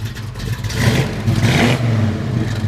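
A 1957 Chevrolet 210's V8 with a lumpy cam, headers and full-length exhaust revs up and down with a deep burbling note, close by and loud, the rumble surging twice over a steady idle.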